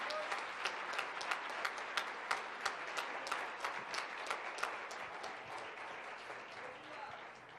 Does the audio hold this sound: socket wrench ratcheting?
no